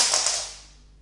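A bone saddle on a flamenco guitar with Wittner pegs gives a single bright plucked tone that starts clearly and decays smoothly over about a second, close and fairly quiet with nothing else heard.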